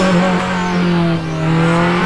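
Race car engine whine with tire squeal in the video game Need for Speed Underground Rivals, loud and sustained, the pitch holding and then shifting.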